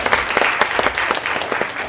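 A roomful of listeners gives a warm round of applause for a track and field program, dense overlapping claps filling the space steadily from start to finish.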